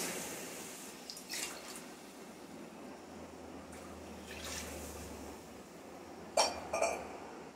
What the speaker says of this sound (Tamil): 2 டம்ளர் தண்ணி ஊற்றிக்கிடுவோம்.